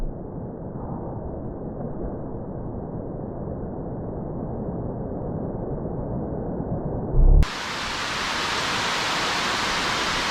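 Water rushing over a creek spillway makes a steady, loud broadband roar with no pause, growing brighter and fuller toward the end.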